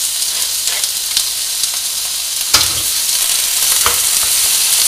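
Nettles frying in an oily pan for a nettle tortilla give a steady, close, bright sizzle, with a brief louder crackle partway through as they stir and settle, and no voices.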